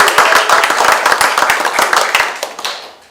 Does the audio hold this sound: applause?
yes